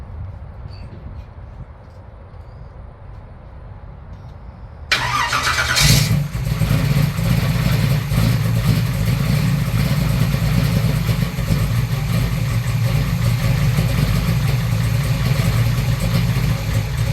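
A Chevy short-bed pickup is quiet at first, then its engine cranks briefly and fires up. It settles into a loud, steady idle close by.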